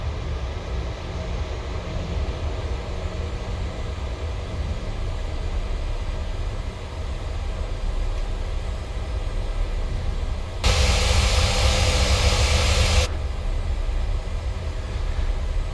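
A Ryanair airliner taxis across a runway in Microsoft Flight Simulator, a steady low engine drone with a constant hiss that briefly swells into a louder broadband rush before settling back.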